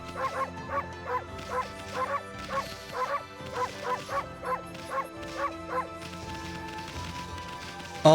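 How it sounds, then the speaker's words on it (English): A neighbour's dog barking in the video game Okami HD: a regular series of about fifteen short, evenly spaced woofs and yips, then a pause with quiet background music. "Ah, yes, the neighbor's dog."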